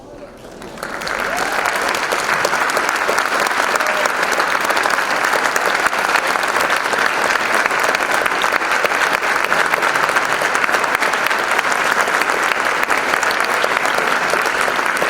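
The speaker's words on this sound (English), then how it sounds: "You all take a stand and take a round of applause." A pageant crowd at the Miss Door County contest gives a standing round of applause, building quickly from a quiet start into loud, sustained clapping that continues evenly, with voices audible underneath.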